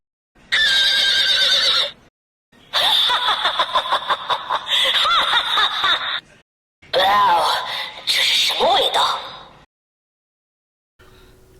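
Electronic horse neighs and whinnies in several bursts with short pauses between them, loud and close, like a toy sound effect.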